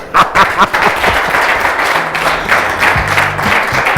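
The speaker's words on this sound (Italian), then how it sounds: "Un applauso." Applause from an audience, a steady patter of many hands clapping at close range, with a few louder claps at the start and voices mixed in underneath.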